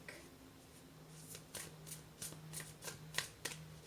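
Nightmare Before Christmas tarot cards being shuffled by hand, a run of quiet papery riffles and soft slaps building in bursts, close up with no talking.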